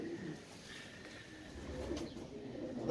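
Pigeons coo faintly and intermittently on a rainy day in Baku, where a keeper shows his prized broad-tailed pigeons; soft low murmurs repeat under steady background patter.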